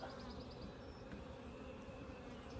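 Honey bees buzzing around a beehive during a Demaree setup: a steady, faint, continuous drone of many bees, with no voices.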